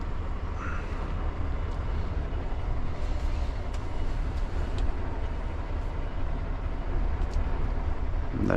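Gravel pouring out of a dump truck in Norway, a steady, loud low rumble and rushing roar that holds evenly for the whole span with faint scattered clatter on top.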